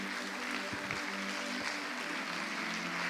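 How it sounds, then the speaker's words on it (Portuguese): A church congregation claps together during a worship service: continuous, fairly even applause, moderately loud, over a faint sustained tone in the room. "Você pode, por favor, aplaudir a Jesus neste momento?"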